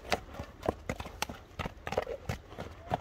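A horse's hooves clip-clop in a quick, irregular series of sharp, close knocks as it is turned left and right at a Kyrgyz horse showing.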